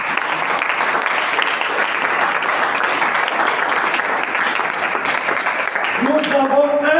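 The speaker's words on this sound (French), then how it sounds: "Est-ce qu'on peut acclamer très fort?" Loud, sustained applause and cheering from a church congregation fills the whole stretch, dense and steady, with a voice rising over the crowd near the end.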